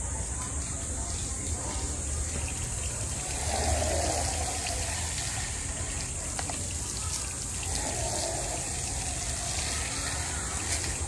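Water running and splashing steadily into a container nearby, with a brief louder gush partway through over a constant background hiss.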